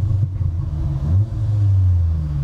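Low, throbbing exhaust burble from a 370 bhp Stage 1 Audi S3 saloon, a deep uneven idle rumble close by and fairly loud, with no talking.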